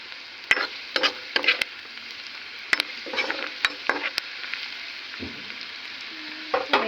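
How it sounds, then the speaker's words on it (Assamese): Onions frying in a pan, with a steady close sizzle and several sharp clicks and scrapes of stirring scattered through it, no talk. "এয়া পিঁয়াজখিনি সম্পূৰ্ণ ভাজা হৈ গৈছে।"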